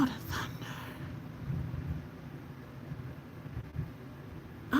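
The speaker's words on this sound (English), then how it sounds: "the thunder" Low thunder rumbles steadily through a storm for about five seconds, faint and distant, with a soft swell near the middle and some wind-like hiss above it.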